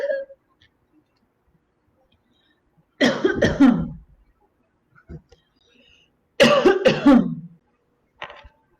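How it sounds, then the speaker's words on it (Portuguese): Two bursts of harsh, close coughing, each a rapid cluster of hacks, separated by a few seconds of quiet, with a faint throat sound at the end. "eu vou tossir agora"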